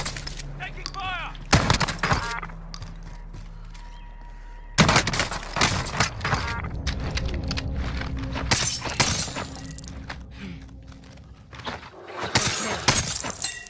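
Gunfire in Call of Duty: Warzone crackles in sharp bursts, loud shotgun blasts and shattering impacts mixed with rapid volleys, close and intense, while players talk over the action at times.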